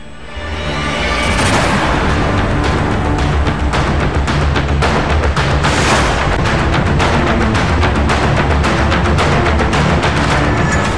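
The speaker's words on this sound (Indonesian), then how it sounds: "jatuh kembali ke tanah dengan suara dentuman keras dan diwarnai asap pekat" A passenger plane crashing onto a runway, heard as a sustained, very loud roaring rumble with repeated sharp cracks and bangs running through it for several seconds.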